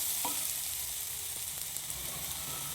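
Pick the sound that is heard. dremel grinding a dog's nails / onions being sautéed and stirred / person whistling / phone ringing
onions being sautéed and stirred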